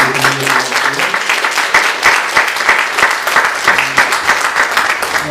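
A church congregation at a Sunday communion service claps together in a dense, lively round of applause, many hands close and loud throughout the few seconds, with no voices over it.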